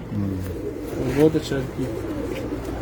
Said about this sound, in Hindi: ये मेरा कबूतर है जी, एक कमांडो माशाल्लाह